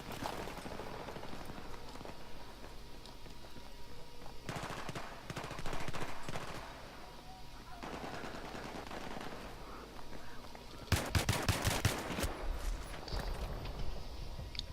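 Battlefield 3 multiplayer gunfire crackles throughout, with louder volleys around the middle and a sharp, intense burst near the end, set against a steady noisy battlefield background.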